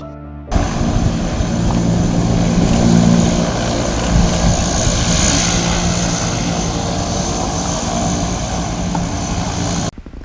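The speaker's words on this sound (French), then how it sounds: "l'avion qui devait y procéder a décollé à midi" A propeller airplane takes off in Madagascar on a flight to seed clouds for artificial rain, its engine a loud, steady, close drone that holds for about ten seconds before cutting off abruptly.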